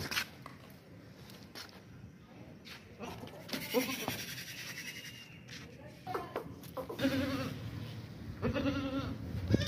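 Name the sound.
goat bleating at a goat market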